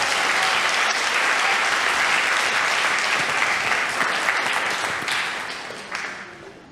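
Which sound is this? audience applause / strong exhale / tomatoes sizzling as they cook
audience applause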